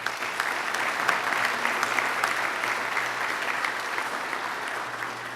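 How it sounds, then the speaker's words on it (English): Audience applauding at a Chamber of Commerce congressional debate, steady dense clapping from a crowd at moderate distance, continuous for several seconds with no talk. "let's give them a round of applause, please."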